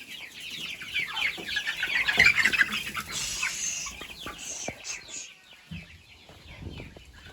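Mixed-breed chickens cluck and squawk continuously, several birds close by, rising to a louder burst of calls before settling into scattered clucks.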